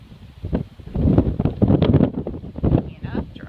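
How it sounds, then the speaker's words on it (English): Wind on a blustery day buffeting the microphone in uneven rumbling gusts, loud and close, with someone speaking over it. "It's quite a windy day."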